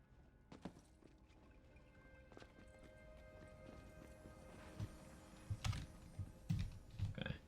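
Clip-clop hoofbeats of the video game horse Butt Stallion, soft and intermittent, growing denser and louder toward the end, mixed with faint clicking and game sounds.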